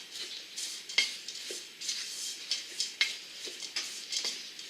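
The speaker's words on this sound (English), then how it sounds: "we'll just give it a quick mix together" A spoon stirring dried cranberries into dry muffin ingredients in a bowl, producing a series of soft scraping swishes and light clinks against the bowl in an uneven rhythm, close and fairly quiet.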